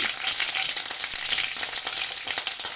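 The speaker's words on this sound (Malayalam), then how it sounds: "എണ്ണ ചൂടായി, പിന്നെ അപ്പോൾ അതിലേക്ക് വെളുത്തുള്ളി" Garlic frying in hot oil makes a steady, bright sizzle with crackling pops throughout, close and continuous without any talk.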